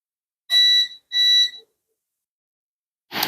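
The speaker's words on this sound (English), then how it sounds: "Now we're going to have to listen to that beep beeping." Two sharp electronic beeps from an alarm after a power outage, in quick succession, loud and close in a quiet room, followed by silence and a brief rustle.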